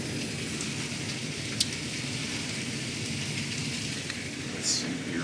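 Steady heavy rain hisses continuously, close and even, with a couple of faint sharp crackles but no clear thunder roll.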